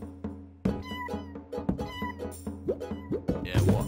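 Repeated cat meows come from the Dreams video game, sounding close and fairly loud in an irregular series over a steady low game soundtrack, with a few brief vocal bits mixed in.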